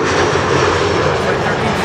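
A KLM Embraer 175 arriving from Prague at Schiphol roars loudly and close, a dense, steady jet-engine rush filling the whole moment.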